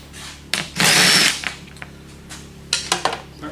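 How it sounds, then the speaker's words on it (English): A battery-powered drill whirs in a short, loud burst of about half a second, followed by a few brief quieter pulses and taps from work on hot rod bomber seats. "Battery power tools, great."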